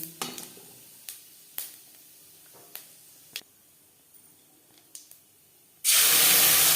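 Whole spices go into a small amount of hot oil in a pan while a fish curry is being cooked. A few soft clicks and taps are followed by a sudden loud, steady sizzle.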